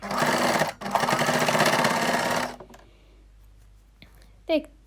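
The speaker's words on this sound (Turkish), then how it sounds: "uç kısımlarına dikiyorum" A sewing machine stitches the ends of a satin scrunchie, running in two close, steady bursts split by a brief pause, then falling quiet apart from a few small handling clicks.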